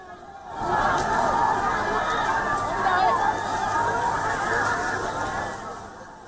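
Protesters in Sri Lanka chant slogans against the Rajapaksa family, heard as a large crowd's steady, swelling roar of voices that holds loud for several seconds before easing off.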